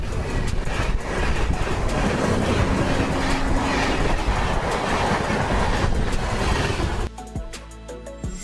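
An electric locomotive train runs along the rails with a dense, loud rumble and rhythmic clatter of wheels, cutting abruptly to a quieter, tonal rail sound near the end.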